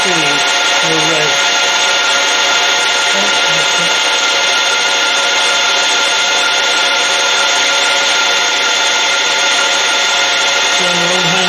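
A milling machine runs at 800 RPM with a 0.05 mm per rev feed, cutting a mill vice stop; a loud, steady machining whine and hiss holds throughout with no break.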